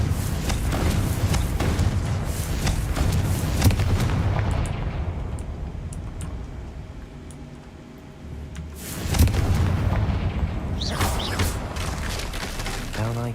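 Blasting spell explosions and combat effects from the fantasy video game Hogwarts Legacy, loud, dense booming bursts that ease off mid-way and then surge back strongly, with no voices over them.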